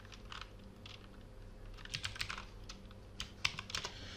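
Someone types on a computer keyboard while filling in a form, with close, fairly quiet key taps in uneven bursts and short pauses between words.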